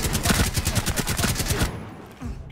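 Sustained fast rifle fire in the tactical shooter Rainbow Six Siege, a loud close rattle of rapid shots that breaks off partway through, leaving a quieter tail.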